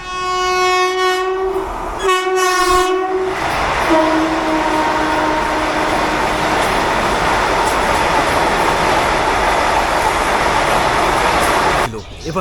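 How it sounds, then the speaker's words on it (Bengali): A loud two-tone train horn blares in repeated blasts, then the Howrah–NJP Vande Bharat Express roars past close by with a sustained rushing rumble until it fades abruptly. "সামনে কিন্তু আসছে হাওড়া এনজিবি বন্দে ভারত এক্সপ্রেস"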